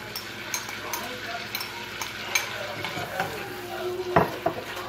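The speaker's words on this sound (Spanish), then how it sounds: "Ya se terminó de fundir la mantequilla. En ella le voy a echar la cebolla." Onion cooks in melted butter in a pan, giving a soft sizzle with clinks and scrapes of a utensil against the pan and a few sharper knocks near the end.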